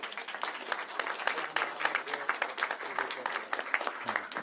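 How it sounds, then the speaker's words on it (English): An audience at a city agenda meeting applauds state champion swimmers from a Christian academy as they approach the podium, steady moderate clapping from a modest crowd. "Let's all give them a round of applause."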